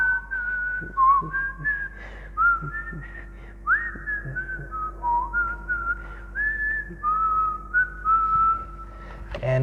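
A person whistles a bright, wandering melody of sustained notes and short slides alone for about ten seconds, close and clear, while walking hand in hand with someone.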